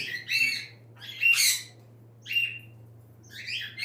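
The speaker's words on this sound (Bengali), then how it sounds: "এটা অ্যালেকজেন্ডার টিয়া বলে অ্যালেকজেন্ডার" An Alexandrine parakeet in a home bird loft gives four loud, harsh squawking calls in separate bursts over a low steady hum.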